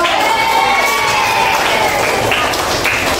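A burst of lively clapping and excited voices from a classroom full of children, dense and close throughout.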